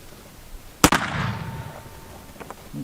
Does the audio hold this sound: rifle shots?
yes